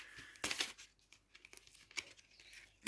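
Plastic shrink wrap tears and crinkles off a vinyl record sleeve, with a sharp rip near the start followed by smaller scattered crackles and rustles close up, quiet overall and without voices.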